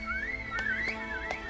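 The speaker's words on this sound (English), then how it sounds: "Igor whistles." A man named Igor whistles to call his tall red horse in a video game, a thin sliding whistle rising and falling in short phrases over a soft steady background hum.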